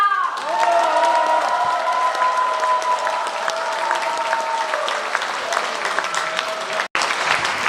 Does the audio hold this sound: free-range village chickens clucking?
no